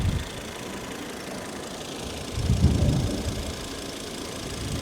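A Volvo engine idling nearby: a low, even rumble with a brief swell in the middle, no voices.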